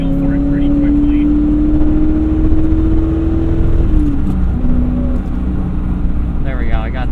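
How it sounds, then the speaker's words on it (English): A manual C4 Corvette's engine drones loudly and steadily while driving, its pitch climbing under load, dipping on a shift and rising again, with only a brief voice near the end. "The engine, I don't want to say it feels happy to rev."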